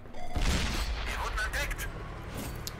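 A tank cannon firing in World of Tanks opens with a sharp, loud boom, followed by a rumbling tail and battle noise, with a voice talking over it.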